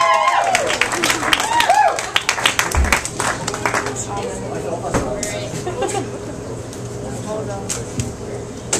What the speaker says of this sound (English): Let's give my mom a round of applause.